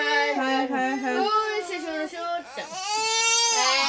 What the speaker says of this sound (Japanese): 泣かないでよ、泣かないでよ。